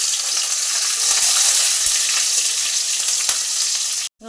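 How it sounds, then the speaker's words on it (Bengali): Garlic and green chillies frying in hot oil in a wok, a steady loud sizzle that holds for about four seconds, then cuts out abruptly near the end. "কড়াইতে তেল গরম করতে দিয়েছি। এখন আমি রসুন আর কাঁচা লঙ্কাটা দিয়ে দেবো।"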